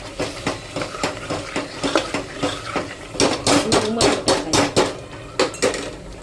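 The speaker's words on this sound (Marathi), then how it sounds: "बघा असं परतून घ्यायचा मसाला लाल जरत करायचा" A metal spoon scrapes and knocks against a pot while masala for mutton curry is stirred and fried, giving irregular clanks and scrapes that grow denser and louder in the second half.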